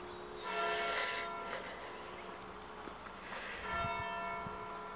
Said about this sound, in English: This is Croston Church. I think they chimed, could have been six times.